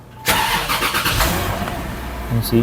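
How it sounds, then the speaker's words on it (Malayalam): A Bentley Mulsanne Speed engine starts with a sharp crank and catch, then settles into a loud, steady idle with a brief blip of revs near the end, close up. "സോ നമുക്ക് ഈ വാഹനം ഒന്ന് ജസ്റ്റ് ഒന്ന് സ്റ്റാർട്ട് ചെയ്ത് നോക്കാം"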